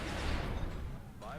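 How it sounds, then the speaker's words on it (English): A laser weapon fires in the XCOM video game, a dense, continuous blast of crackling, booming noise that fades slightly before a brief whooshing sweep at the end. "we can fire our laser"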